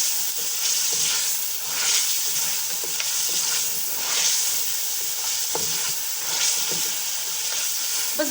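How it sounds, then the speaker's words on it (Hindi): Meat searing with garlic-ginger paste for aloo gosht, a loud continuous sizzle and hiss with steady stirring scrapes swelling in rhythmic waves, close up, no voices. "अच्छा सा भून लेंगे।"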